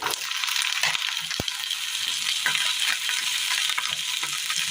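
Sliced onion, garlic cloves and chopped tomato sizzle steadily in a hot pan, a loud continuous fry broken by stirring scrapes and a few sharp clinks.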